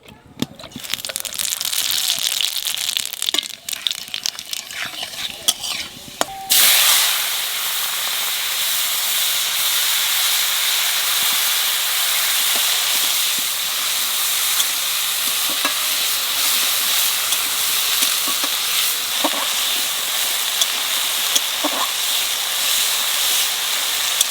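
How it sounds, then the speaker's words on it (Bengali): Radhuni spice seeds dropped into hot oil, a brief burst of crackling at first that settles into a long, steady hiss of sizzling oil with a few small pops, close and loud, with brief voices at the start. "তেলের মধ্যে দিয়ে দেবো কটা রাঁধুনি।"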